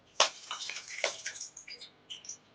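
Bay leaves, cloves, cinnamon and cardamom crackle in hot oil for mutton kosha as they are lightly stirred, sharp scattered pops and spatters against near silence.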